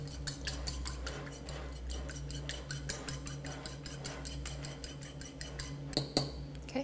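Whole egg and extra yolk are whisked together for an egg wash in a bowl, a rapid steady ticking of utensil against the bowl's side, close and rhythmic, ending in a couple of louder clinks.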